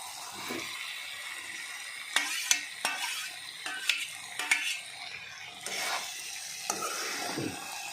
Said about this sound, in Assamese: এতিয়া মই ইয়াত বইল কৰি থোৱা আলুখিনি ইয়াত দি দিম।